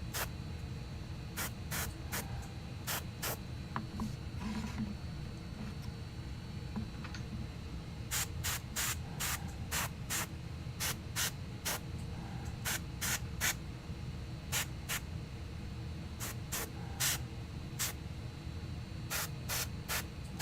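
Airbrush spraying paint onto Warhammer Age of Sigmar miniatures, with a low steady hiss broken by repeated short bursts clustered in rapid runs, close and clear with no talking.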